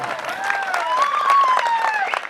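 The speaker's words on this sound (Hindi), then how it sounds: "तो ताली बजाओ जोरदार।" Steady applause from a crowd at a dance competition, many hands clapping together continuously, with a whistle-like tone gliding above it.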